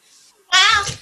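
A single loud cat meow rising sharply and holding briefly, close to the microphone, preceded by faint quiet background noise.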